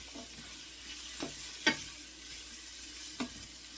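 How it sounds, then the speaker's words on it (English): Halved, steamed carrots fry in butter in a skillet with a soft steady sizzle, broken by several scraping stir-and-flip sounds, one sharper clatter among them. "we want to get the butter coated on all of the carrots. I keep flipping carrots out of my skillet."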